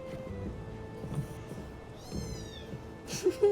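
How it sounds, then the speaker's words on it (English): A cat meows close by, a drawn-out tonal cry around the middle followed by a shorter meow near the end, over a quiet background hum. "Chat is going crazy for the meow."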